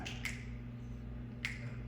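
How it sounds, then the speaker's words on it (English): Two quiet finger snaps, about a second apart, sound over bags during a stage magic show, sharp brief clicks against a low steady room hum. "All I do is I snap my fingers over the bags."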